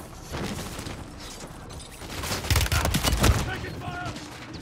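Gunfire bursts rattle through a Call of Duty match, with rapid shots growing louder and denser midway, under game voices and combat noise.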